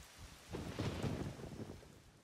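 Rain and a rumbling roll of thunder in the video game SCUM, a low swell that builds through the middle and fades, with steady rainfall hiss beneath and no talking.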